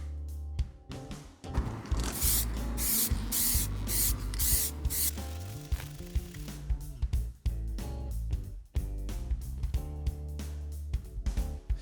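Spray can painting a car, a light final dusting coat: a steady hiss of aerosol spray with repeated short bursts and sharp clicks of the nozzle, close and fairly loud, no talk.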